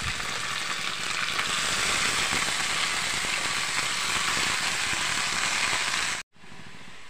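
Finely shredded amaranth leaves hit hot tempering with curry leaves and sizzle loudly and steadily for about six seconds, close by, before a sudden cut to near silence, with no voices.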